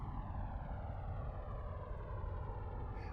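Airplane engine in a flight simulator game, a steady droning hum with a gradually falling whine as the aircraft touches down and slows, continuous and fairly close with no talking.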